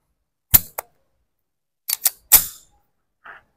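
Springfield Armory XD-45 pistol fired at 7 meters: five sharp, loud reports with short ringing decay, two in quick succession, then a pause before three more close together, followed by a faint metallic clink.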